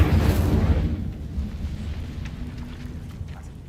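Casting the Incendio fire spell in Hogwarts Legacy sets off a loud, roaring whoosh of flame. A burst hits at the start, then a rumbling, crackling fire sound trails off slowly over several seconds.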